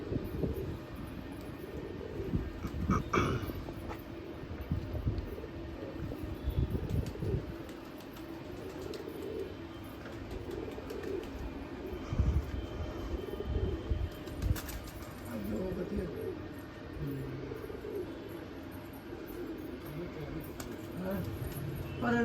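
Pigeons on a rooftop coo softly and intermittently amid steady low outdoor noise and occasional scuffles, with people talking nearby.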